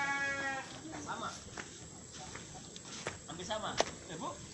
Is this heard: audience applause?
no